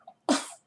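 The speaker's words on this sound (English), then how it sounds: "We got a puppy sneeze on film." A puppy gives a single quick, close sneeze, a short sharp burst that trails off within half a second after a faint snuffle.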